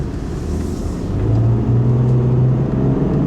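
A 2010 Toyota RAV4 V6 engine rumbles and revs up under aggressive acceleration, a low steady drone rising in pitch and loudness, heard from inside the small SUV.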